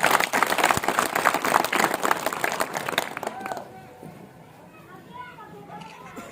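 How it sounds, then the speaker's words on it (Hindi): A large crowd at an outdoor political rally in Talwara claps loudly and densely for about three seconds, then the applause drops away and a voice begins speaking over a quieter background. "रशीद जी के लिए जरा जोरदार तालियां हो जाए मेरा।"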